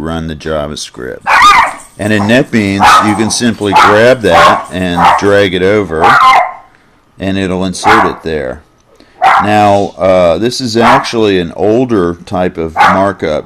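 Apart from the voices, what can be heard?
dog barking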